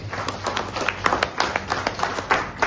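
An audience at a talk gives applause for the speaker's first mentor, a cluster of sharp, close claps from a modest group, irregular and steady throughout without voices.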